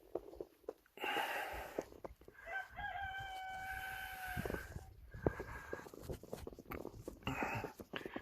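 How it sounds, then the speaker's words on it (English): Chickens and a rooster outdoors on a cold winter day after the first snow, giving a few nearby crows and scattered clucks across several seconds, with brief gaps between calls. "The chickens all survived pretty good, but we'll go take a look at them."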